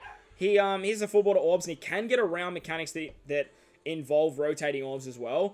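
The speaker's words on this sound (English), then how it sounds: "I wish my puppy would stop barking. Apologies about the barking in the background." A puppy barks and yips intermittently in the background beneath continuous close male speech throughout.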